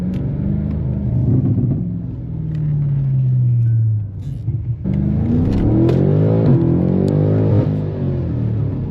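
Car engine revving and dropping off with crackling exhaust burbles, loud and close from inside the car during a drive, rising and falling in pitch.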